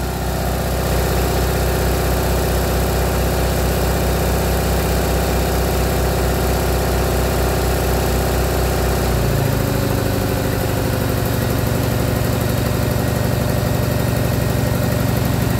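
A hybrid engine running on a mix of hydrogen and oxyhydrogen with ambient air idles steadily and loudly throughout, its constant hum shifting to a slightly different, lower pitch partway through.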